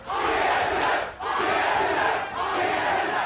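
A large crowd in an esports arena at a League of Legends NA LCS match cheers in loud, sustained roars that briefly dip twice before surging again.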